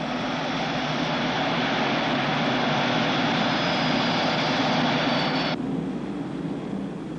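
Jet engines of a 1950s USAF Boeing B-47 Stratojet bomber spool up for takeoff, a loud steady roar with a broad whine. The roar holds for several seconds before its upper hiss abruptly drops away near the end, with no voices.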